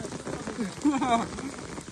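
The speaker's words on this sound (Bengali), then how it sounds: "কিন্তু সামনে থেকে অনেক জোরে বৃষ্টি হচ্ছে" Steady, dense rain patters all around, with faint voices briefly under the downpour.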